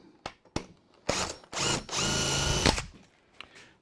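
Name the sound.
power drill driving screws into a drawer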